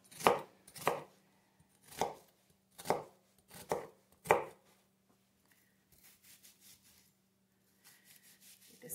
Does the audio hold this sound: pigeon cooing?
no